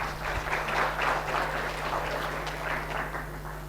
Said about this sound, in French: Attendez la fin avant d'applaudir, hein.